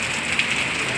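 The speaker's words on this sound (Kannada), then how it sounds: "ಇವತ್ತು ಮಳೆ ಸ್ಟಾರ್ಟ್ ಆಗಿದೆ." Rain pours steadily in Gundlupet, a dense, even hiss of drops on surfaces heard up close for a full second with no pause.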